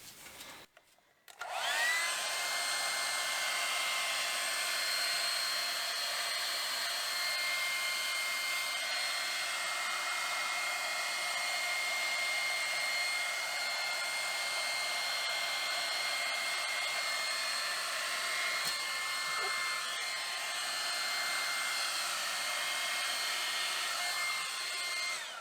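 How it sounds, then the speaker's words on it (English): A hairdryer blows steadily on acrylic pour paint, starting after a brief click and then a constant, loud whirring drone that holds unchanged for over twenty seconds with no talking. "hairdryer again, just one more time."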